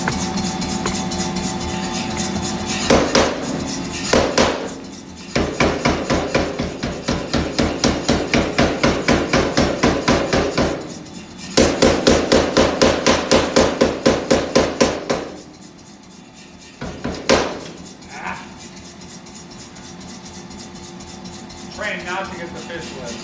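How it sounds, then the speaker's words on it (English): Power hammer forging a knife blade in a smithy, delivering rapid rhythmic bursts of heavy, close blows separated by short pauses, with a few lighter taps and faint background noise between runs. "we should do this on the power hammer"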